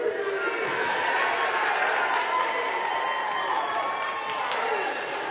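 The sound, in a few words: crowd cheering at a wrestling third place match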